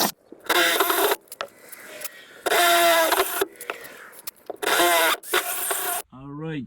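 A power drill bores a hole for Toyota Tacoma seat bolts in winter. It comes in three loud, whining bursts separated by short pauses, and a brief voice is heard at the very end.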